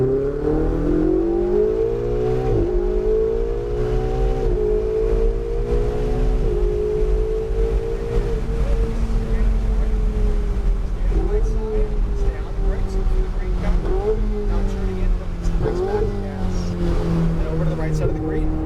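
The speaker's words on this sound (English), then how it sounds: "So go ahead and accelerate." A Ferrari accelerating on a track, its engine rising in pitch through several gear changes. The revving is loud and close, as if from inside the car, and continues steadily throughout.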